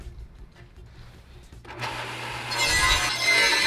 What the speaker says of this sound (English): now we'll take this 1x6, set our saw up for 3 inches